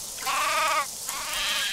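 Sheep in the video game Craft The World bleat twice in quick succession, a clear wavering baa followed by a second fainter one, close and alone.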